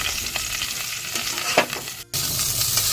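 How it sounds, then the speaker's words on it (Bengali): Cauliflower florets fry in white oil in a pot over medium-low flame, a steady bright sizzle with occasional stirring scrapes and a brief dropout before the hissing resumes. "দিয়ে তাতে কপিগুলো একটু হালকা 30 সেকেন্ডের মতো মিডিয়াম টু লো ফ্লেমে ভেজে নেব"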